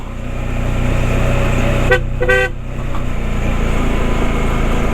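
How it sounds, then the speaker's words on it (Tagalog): Two short car horn toots sound midway over the continuous rumble of a running vehicle engine. "Busina, busina."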